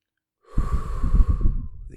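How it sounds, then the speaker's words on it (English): Slow, deep box breathing, with a single long breath drawn in audibly after a moment of silence, close to the mic. "like that box breathing"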